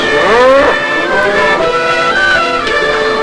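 Cows moo on a farm in pre-revolution Laos, a couple of long drawn-out lowing calls rising and falling, loud and fairly close with no talking.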